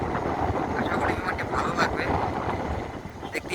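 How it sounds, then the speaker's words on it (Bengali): A large four-engine cargo plane takes off, a broad, roaring engine drone holding steady and fairly loud, with buffeting wind noise over it and no clear voices. "এখন বিমানটি টেক অফের প্রস্তুতি নিয়ে ফেলেছে বিমানটি কিন্তু এখনই আকাশে উড়ে যাবে"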